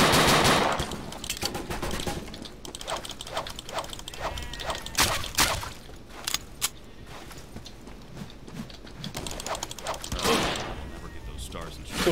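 Bursts of machine-gun and rifle fire in the Dino D-Day shooter game, sharp cracks and rattling volleys with mechanical clanks between them, and voices talking over the shooting.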